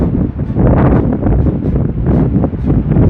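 Heavy, continuous wind buffeting a microphone outdoors on a country lane walk in February, a dense low roar with gusty surges throughout and no voice heard.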